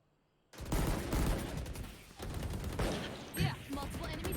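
In Valorant on the Breeze map, Killjoy's swarm grenade goes off in a sudden burst of dense rapid crackling that continues for several seconds, loud and close, with game sounds mixed in.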